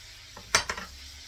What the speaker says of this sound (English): See how it starts sizzling?